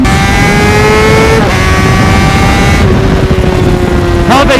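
Honda CBR600RR sport bike ridden hard on twisty roads, its high-revving inline-four engine loud and close, climbing through the revs with sharp gear changes and a steady rising whine.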